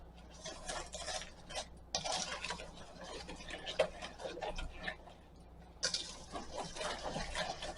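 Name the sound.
whisking walnut bar filling ingredients together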